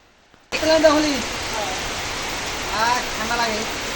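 Steady rain pours down around someone bathing outdoors, a dense broadband hiss that starts abruptly after a brief quiet moment and holds near and loud, with faint voices mixed beneath it.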